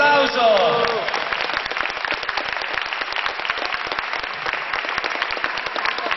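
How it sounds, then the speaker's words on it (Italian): An audience at a martial arts awards ceremony breaks into applause as a guest is invited on stage; a voice is heard at the start, then sustained, crisp, close clapping continues evenly for several seconds. "Applauso."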